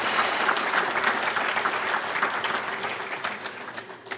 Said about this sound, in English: Let's have a round of applause for those guys